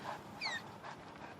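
A dog whimpers in Kamen Rider Drive, one thin rising whine followed by softer yips, close and fairly faint over a low background.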